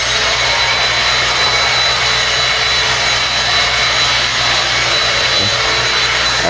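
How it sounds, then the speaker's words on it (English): Vacuum cleaner running loud and close, a steady roaring whine that holds unchanged for the whole stretch, with no voices. "I'm gonna give it a quick vacuum."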